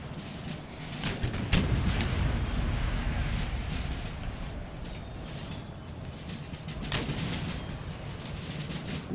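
Heavy artillery barrage in the Empire: Total War 13 Colonies battle, with steady rumbling booms and repeated sharp cannon reports, a louder blast near the start, over a continuous low battlefield roar.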